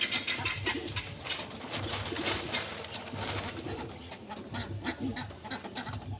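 A flock of pigeons coos continuously at close range, a dense, steady burble of overlapping calls with no talking.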